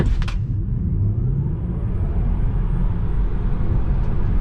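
A 2022 Tesla Model 3 Performance drives fast, with a loud, steady low rumble of road and wind noise inside the cabin and a brief higher whir near the start.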